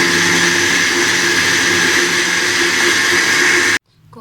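A mixer jug blender whirs loudly and steadily while blending cold coffee, a dense, even roar that cuts off abruptly just before the end.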